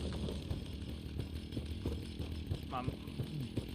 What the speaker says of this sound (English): Tip of that chainsaw just got you